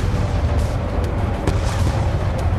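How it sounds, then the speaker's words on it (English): Explosions from the video game Call of Duty Black Ops II rumble steadily with a dense low-end roar, a few sharper booms punching through the continuous battle din. "Just avoiding the explosions."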